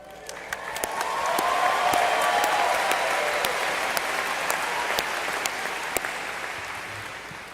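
A large commencement crowd at Texas State University applauds its graduating class of 2022, loud dense clapping that swells quickly and holds steady for several seconds, with scattered sharper claps standing out.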